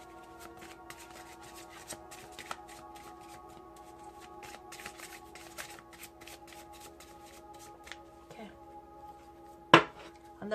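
Tarot cards shuffled by hand to draw a clarifying card, giving quick repeated riffling flicks close up, ending in a sharper slap of the deck.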